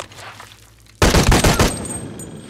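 A burst of rapid gunfire erupts in the video game Shadow of the Tomb Raider, loud and close, several shots merging into a dense volley after a quieter second before it, then tailing off.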